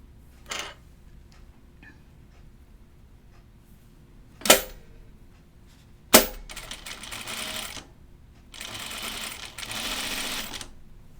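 Sewing machine stitching a dress, with two sharp mechanical clacks followed by short bursts of fast whirring stitching, separated by quiet pauses.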